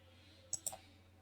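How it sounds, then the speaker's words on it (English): Two sharp computer mouse clicks about a tenth of a second apart, close and crisp against a quiet room hum. "You go to file and click export and click export"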